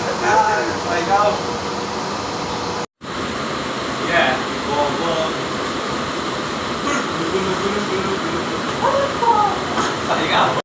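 Steady rumbling roar of a moving local train in Bangalore heard from inside the carriage, with rattling and clatter throughout and faint voices under the noise.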